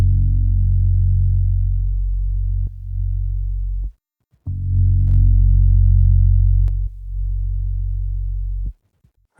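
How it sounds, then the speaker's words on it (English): Live bass from a lofi track plays alone: deep, sustained low notes that swell and stop in long phrases, separated by brief silences and faint clicks, close and fairly loud. "It was like a live bass that I've used, which sounds something like this."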